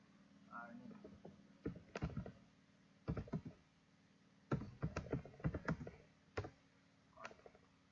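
Keys clack on a computer keyboard while someone types a new post in Blogger, the strokes coming in quick clusters separated by short pauses, with a voice speaking softly at times.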